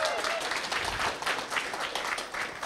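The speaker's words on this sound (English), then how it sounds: "That applause is definitely welcome" Audience applause at an open-science keynote, a steady wash of many hands clapping at moderate level that fills the whole moment with no speech over it.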